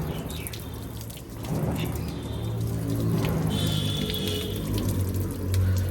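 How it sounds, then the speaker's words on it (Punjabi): Water poured from above into a tractor engine block to flush out dirty old coolant. It makes a steady, close running and splashing sound that continues for the whole stretch with no voices. "ਉੱਤੋਂ ਪਾਣੀ ਪਾ ਕੇ ਬਲਾਕ ਚ ਇੱਕ ਵਾਰੀ ਪਾਣੀ ਕੱਢ ਦਾਂਗੇ ਗੰਦਾ"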